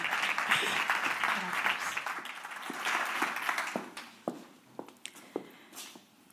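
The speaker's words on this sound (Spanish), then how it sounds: "os pido el aplauso para ella." Indoor audience at an agricultural conference applauding a speaker, steady clapping that tapers off into a few isolated claps and footsteps as she walks up.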